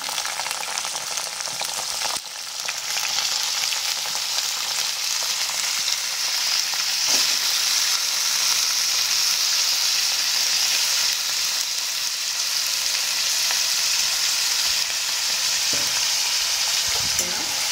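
Potato tossed into hot oil with green chilies for sabudana khichdi sets off a loud, sustained sizzle after a sharp drop-in moment, with occasional stirring knocks and no speech.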